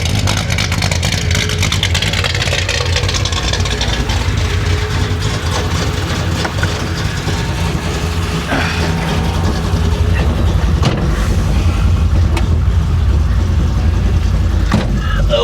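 A 1966 Chevy Impala engine running on a test run, a loud continuous low rumble with mechanical rattling and occasional revving, steady and close throughout.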